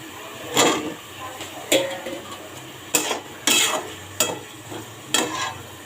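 Pointed gourd (potol) stirred into spice paste in a pan, with a spatula scraping and clanking against the metal every second or so over a faint sizzle, no talk.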